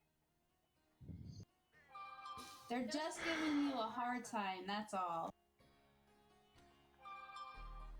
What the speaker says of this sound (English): whoever's phone is going off, that sounds like my phone when I was in high school